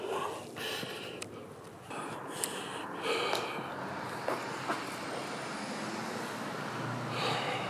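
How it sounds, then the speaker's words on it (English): Cars pass on a road near a bridge, heard as a steady, fairly distant traffic rumble with faint whooshes and occasional brief clanks and hisses, and no voices. "even cars are making me jump right now"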